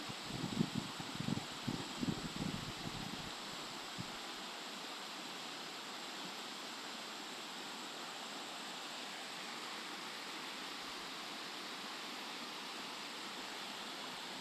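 Steady, powerful roar of rushing river floodwater fills the whole clip, broadband and unbroken, with a few heavier churning pulses near the start.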